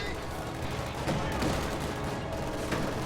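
Autocannon and small-arms fire rattle through a Company of Heroes battle, a dense, continuous wash of bursts and distant impacts with a few louder cracks, mixed under game noise and faint voice.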